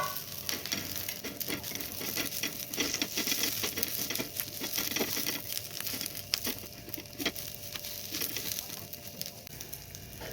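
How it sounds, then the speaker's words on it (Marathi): Steady crackling sizzle of onion, garlic cloves and ginger sautéing in a hot pan for spicy Kolhapuri misal, with soft stirring and spattering throughout and no talking. "आपला कांदा परततोय त्याच्यामध्येच आपण या लसणाच्या पाखळ्या आणि अद्रक टाकून घेऊ आणि तेही याच्यामध्ये परतवून घेऊ"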